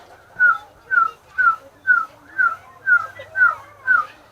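A person whistles an imitation of a tooting owl call: eight evenly spaced, clear whistled hoots in a steady rhythm, close and loud against a quiet background.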